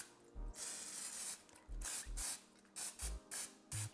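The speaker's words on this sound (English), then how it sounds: "Now I'm going to spray it again, once more." Short bursts from a cooking-oil spray can mist chicken tenders in an air fryer basket, several quick hissing sprays separated by brief pauses, close and fairly soft.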